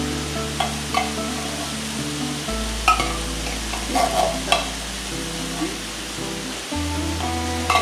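Canned mushroom soup being stirred into a sizzling pan, with steady frying hiss under intermittent scraping of the utensil, loud and close, with a low background hum throughout.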